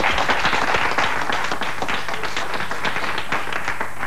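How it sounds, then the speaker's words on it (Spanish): A studio audience at a 1995 Argentine television comedy show, Cha Cha Cha, applauds loudly and continuously, a dense, even wash of many clapping hands with no break. "Juan Carlos, fuerte el aplauso."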